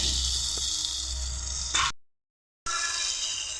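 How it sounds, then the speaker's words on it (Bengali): Diced potatoes fry with salt and turmeric in a wok, giving a steady, close sizzle that cuts out to silence briefly and then resumes. "কড়াইয়ে আলু কুচি দিয়ে লবণ ও হলুদ দিয়ে আলুগুলোকে আম্মা এভাবে ভেজে নিচ্ছে"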